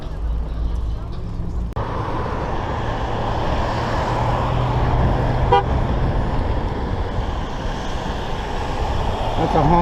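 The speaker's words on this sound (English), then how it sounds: "That's a honk of approval." A car horn toots amid steady road traffic noise in Casa Grande, Arizona, with vehicles passing close by and a continuous rumble throughout.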